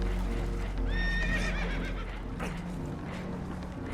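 Spooked horses whinny in Red Dead Redemption 2 aboard a damaged boat taking on water, one loud rising neigh followed by shuffling hooves and creaking, close and clear.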